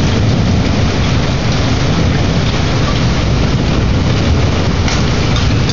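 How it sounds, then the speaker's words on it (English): Hail and heavy rain hammer down during a severe thunderstorm, a dense, loud and continuous roar of impacts with no gaps and a low rumble beneath. "We're getting hail again."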